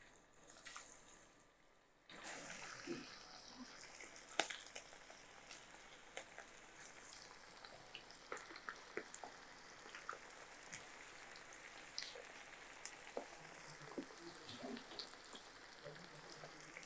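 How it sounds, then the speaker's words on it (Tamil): Flour-coated soya chicken pieces are dropped one by one into hot oil and deep-fry with a steady, fairly faint crackling sizzle that starts after a brief quiet moment and carries on evenly. "அடுத்தது இப்போ இந்த சிக்கன் பீஸை ஒன்று ஒன்றா போடலாம்."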